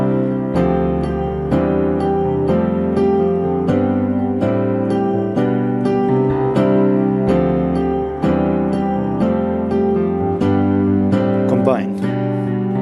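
A piano plays a rising chord progression over an inverted pedal note, with about a dozen evenly spaced struck chords ringing and sustaining in a steady rhythm, close and clear with no talk.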